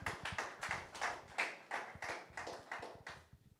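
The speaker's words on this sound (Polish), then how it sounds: "Super, wielkie brawa dla Panów" A small group claps for the fighters at an EFN 7 MMA weigh-in, a handful of distinct, uneven hand claps that thin out and fade toward the end, fairly quiet and without voices.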